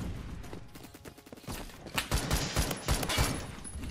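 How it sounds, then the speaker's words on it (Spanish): Gunfire in the Roblox shooter Phantom Forces: a run of loud, sharp shots in quick succession, thickening into a dense volley toward the end, heard alone without voices. "Cuidado, ¿quién me está disparando?"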